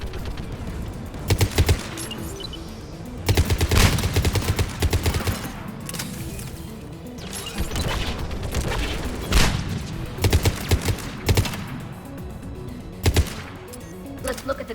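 Mounted turrets in Mass Effect 3 fire loud, rapid bursts of automatic gunfire in repeated volleys, with short pauses between them and a constant rumbling battle ambience throughout.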